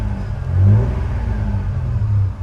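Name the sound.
car engine revving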